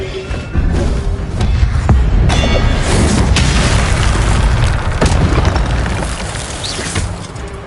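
A loud, booming fire spell blast in Hogwarts Legacy on PS5, a heavy explosive burst followed by sustained roaring rumble and thuds, close and dominant with no talk.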